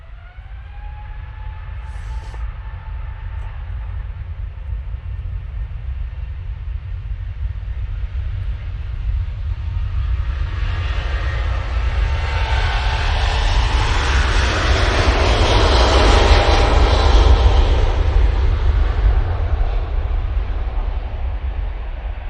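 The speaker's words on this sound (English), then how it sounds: "Singapore Airlines, A350-900," Singapore Airlines Airbus A350-900 taking off from Manchester Airport bound for Singapore, a loud deep engine roar swelling steadily to a broad peak and then easing slightly, with no voices.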